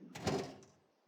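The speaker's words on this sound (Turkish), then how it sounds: "Kapıyı da açalım." Door opening in the farm game Farming Simulator 22, a single short sliding rumble that swells quickly and then fades away, quiet and isolated.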